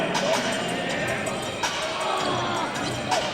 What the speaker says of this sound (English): You can hear voices behind me cheering when he shoots the ball.